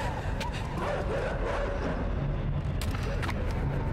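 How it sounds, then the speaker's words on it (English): Dogs in the video game INSIDE bark and yip in a dense, continuous rush, heard under steady game noise and a faint voice. "They are really throwing dogs at me."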